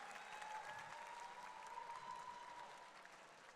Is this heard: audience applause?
yes